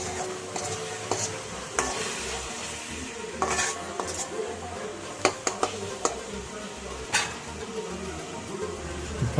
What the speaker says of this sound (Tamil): இல்லை அடிப்பிடிக்காத அளவுக்கு நல்லா கிளறி விட்டுக்கோங்க